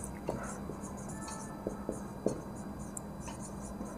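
Chalk or marker tapping and scraping on a board during a chemistry lesson on electrolysis, a few short sparse strokes over a quiet room with faint background hum and soft voice.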